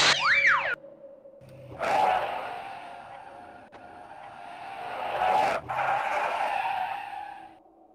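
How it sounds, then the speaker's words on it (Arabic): A car tire bursts and the tires skid, giving two loud, harsh screeching surges separated by a lower rolling engine drone, close and prominent throughout. "أحد الإطارات انفجر"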